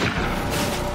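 A sniper gunshot in a film: a short, dense, loud boom-like blast filling under a second with no talk.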